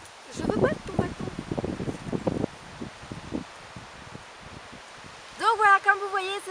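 Wind gusts rush through a horse pasture, giving a steady windy rustle and microphone buffeting. A person speaks over it in the first seconds, and a horse or other animal calls out near the end.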